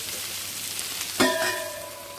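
Tomatoes drop into a hot pan of oil for a potato and egg curry, bursting into a loud sizzle partway through that then settles into steady frying hiss.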